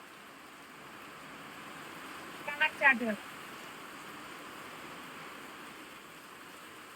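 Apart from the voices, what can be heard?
heavy rain falling outside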